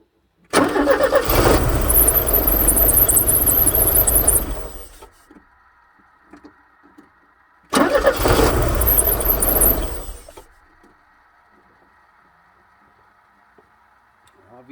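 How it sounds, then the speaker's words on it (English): A 1984 Porsche 944 engine with one injector unplugged cranks without catching, two loud starter bursts of about four and three seconds, each followed by a faint steady electrical whine. "I'm going to try starting it again with that injector unplugged."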